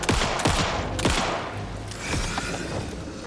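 Rapid bursts of gunfire in the video game Alan Wake 2, several sharp loud shots fired in quick succession and then trailing off into lower rumbling background game sound.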